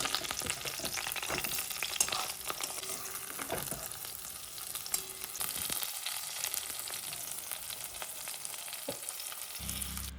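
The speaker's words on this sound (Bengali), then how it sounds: "এই ধরনের বড়া ভাজা করার সময় এই যে চড়চড় চড়চড় করে এই শব্দটা আমার ভীষণ ভালো লাগে।" Leaf fritters coated in besan batter sizzle steadily in hot oil, a continuous crackling hiss with brief pops and occasional utensil movement, close and unbroken throughout.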